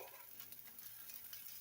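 Food fries in a pan with a steady, faint sizzle, a soft continuous crackle and hiss that stays even throughout, with no talking over it.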